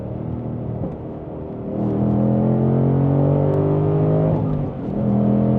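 A Ford Mustang Dark Horse with a six-speed manual downshifts, its engine rumble swelling to a loud, sustained rising growl inside the cabin.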